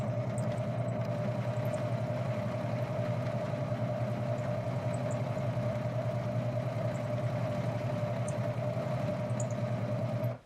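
A home sewing machine runs slowly and steadily for several seconds, a continuous low motor hum with a faint rhythmic mechanical drone, then stops abruptly at the end.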